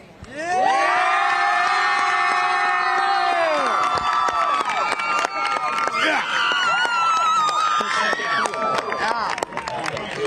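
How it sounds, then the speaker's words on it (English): A packed high school football crowd at a Tri-County North vs. Preble Shawnee game cheers loudly, with screams and whoops rising after a brief start and holding throughout, close and energetic with shouted voices mixed in. "Let's hear a big cheer while we send it back up to the broadcast booth."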